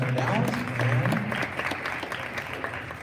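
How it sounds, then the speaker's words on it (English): Applause from the audience at a school counselors' event, a steady patter of many hands in a room with voices faintly mixed in, moderately distant and gradually thinning out. "And one more round of applause for Jake."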